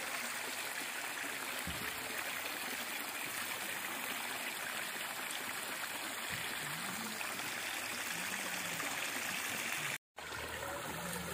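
Clear, cold river water flowing over stones in the Sungai Mangkel, a steady close rushing and trickling murmur with no talk, briefly cut by a short dropout near the end.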